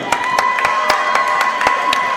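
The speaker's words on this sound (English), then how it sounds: "Crowd of support here tonight for Taylor." A crowd at a women's kickboxing fight cheers and claps steadily, a broad wash of noise with repeated sharp claps throughout.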